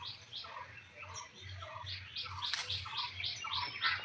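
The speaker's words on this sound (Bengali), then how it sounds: "চারিদিকে এত সুন্দর পাখির আওয়াজেই যেন মন ভরে যাচ্ছে, তাই না?" Small birds chirp repeatedly in a garden, short bright calls coming in quick bursts from a moderate distance over a faint steady outdoor background.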